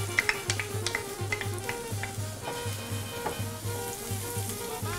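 Onion frying in oil for mote de queso, a close steady sizzle with crackles and occasional utensil clinks at the start, over a pulsing low hum.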